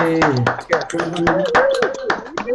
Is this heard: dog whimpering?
no